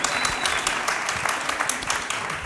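An audience applauds panelists at a Nuqat 2014 discussion panel, steady dense clapping with sharp individual claps standing out, close and continuous for the whole moment.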